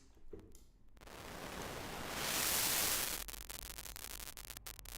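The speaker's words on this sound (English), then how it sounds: "You can get this sort of like tones, like digital noise. You have these crackles." Harsh electronic static from a U-He Zebra 2 software synthesizer swells and hisses, then breaks into a rapid series of sharp digital crackles and clicks.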